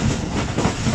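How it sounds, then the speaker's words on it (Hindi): The Thall Express, a private passenger train from Rawalpindi to Mianwali, runs at full speed on the ML2 line, a loud, steady rumbling roar with rhythmic clatter of wheels on the rails, heard close from on board with no talking. "रफ्तार ट्रेन की ज़्यादा होती है लेकिन स्पीड लिमिट के मुताबिक फुल रफ्तार से चल रही है इस वक्त ML2 पर"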